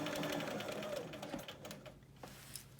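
Sewing machine stitching a big stitch on a jewel panel, a rapid buzzing whir up close that runs about two seconds and then stops, with no voices.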